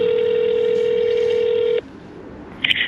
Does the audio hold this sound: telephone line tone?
yes